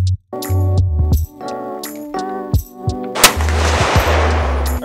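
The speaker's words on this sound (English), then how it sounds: "Adam is going to be shooting the Q-Fix." Several sharp, loud rifle shots from a Q Fix 6.5 Creedmoor ring out at an outdoor range, spaced irregularly, with a harsh blast and sustained rushing echo after the last one.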